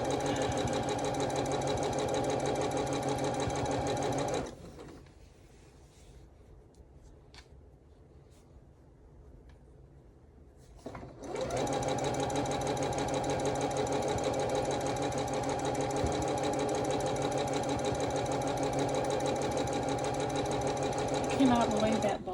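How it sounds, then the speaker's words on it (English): A sewing machine stitches a Calico Snails table runner while its bobbin runs nearly empty. It gives a loud, steady whir, stops for about six seconds mid-way, then resumes running continuously. "I cannot believe that bobbin is still going."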